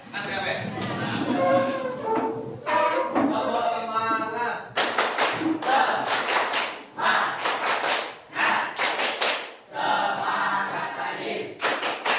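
A class group performs a rhythmic spirit clap led by a teacher, bursts of sharp patterned claps and slaps alternating with chanting voices in a room.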